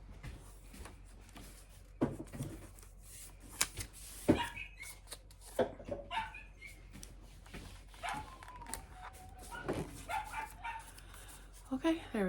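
A dog barks and yips in short irregular bursts, fairly close, amid rustling and handling noises.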